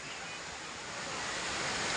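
River water rushes steadily at Hogenakkal falls, a dense, constant roar of flowing water that fills the scene without pause, close and fairly loud.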